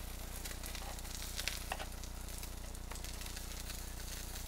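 Butter sizzles steadily in a hot pan while Chilean sea bass is being pan-seared, a constant close frying hiss with a few small crackles and no talking.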